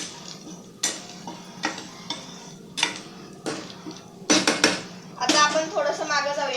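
A metal spoon stirs a turmeric mixture in a pan while cheesy Maggi noodles are made. Sharp, irregular clinks and scrapes ring out one after another, and a voice speaks briefly near the end.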